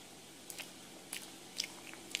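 A bite and chewing of puto flan, a soft steamed cake topped with leche flan: a few faint, close, moist mouth clicks spaced across a quiet background, with no talking.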